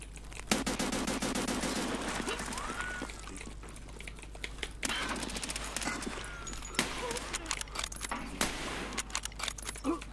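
Rapid gunfire bursts during a video game shootout with a scav, sharp repeated cracks in clusters over a busy background, with voices talking at times.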